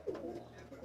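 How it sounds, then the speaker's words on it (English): A roller pigeon coos softly, a low, faint burble repeating over under a second. "See the color on that pigeon?"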